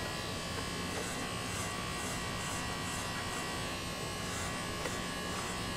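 Electric hair clippers buzz steadily and continuously during a home haircut, a close, even hum with no pauses and no voices.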